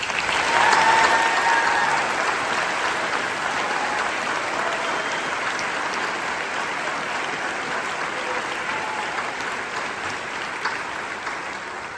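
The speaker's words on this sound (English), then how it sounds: "please join me in a well-deserved round of applause for this extraordinary group of graduates" Applause for graduates at a 2025 graduation ceremony: a large crowd gives sustained, even clapping that holds steady for twelve seconds and tapers only slightly toward the end, with no talk over it.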